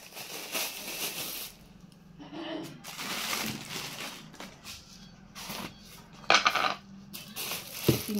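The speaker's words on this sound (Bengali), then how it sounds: "চিনি কৌটো চিনিটা ঢেলে ফেললাম।" Granular sugar, one kilo, poured into a kitchen storage container, giving a few short rustling, clattering pours with brief gaps, fairly close and moderate in level, with light handling noises between.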